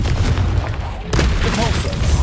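Rapid spell-casting blasts in the video game Hogwarts Legacy: loud, booming magical impacts hit in quick succession with a brief dip in the middle, and a voice is heard over the noise.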